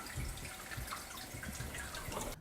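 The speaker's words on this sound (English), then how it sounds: "I'm going to turn the water back on." Water runs steadily into a toilet tank as it refills after the supply is turned back on, a close, continuous rushing trickle with faint splashes, alone and without talk, cutting off at the end.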